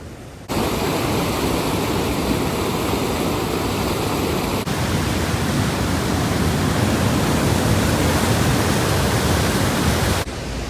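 Clear mountain river water in North Sikkim rushing continuously as a dense, loud, steady broadband roar close by, with no voices over it.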